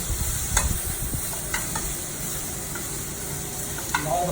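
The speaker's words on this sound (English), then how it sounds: "right now you just want to get the vegetables nice and sauteed." Vegetables sautéing in a pan, a steady sizzle with occasional scrapes and taps of stirring, close and continuous, no voices.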